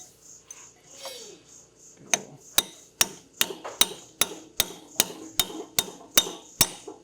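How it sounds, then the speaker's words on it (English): A hammer drives a pin into a locker held in a vise: about a dozen sharp metallic strikes in a steady rhythm, close and loud, after a few softer taps, with faint child babble and a brief voice in the background. "Just gonna drive that pin all the way in."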